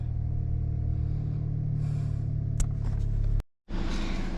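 A truck engine runs steadily while warming up, a constant low rumble close by, broken by a couple of sharp clicks and a brief dropout near the end.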